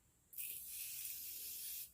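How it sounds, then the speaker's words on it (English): Beauty Bakerie Sweet Grace setting spray misted from a bottle in one long, steady, close hiss lasting over a second, starting and stopping abruptly over a quiet background. "I'm just taking the Beauty Bakerie Sweet Grace Setting Spray"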